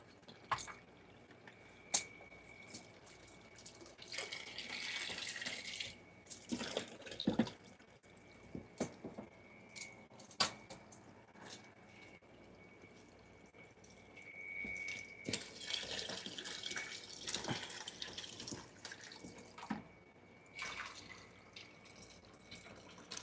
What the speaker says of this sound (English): I'm gonna turn the water off. Because I need to move the hose again.